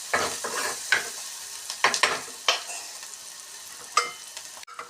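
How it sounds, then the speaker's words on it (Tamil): A spatula stirs and sautés in a sizzling pan while the base for egg gravy cooks, giving soft sizzling under a series of sharp scraping and tapping strokes spread irregularly across the few seconds. "நல்லா வதக்கிக்கோங்க."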